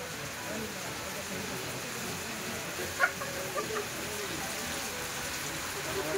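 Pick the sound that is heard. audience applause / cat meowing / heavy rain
heavy rain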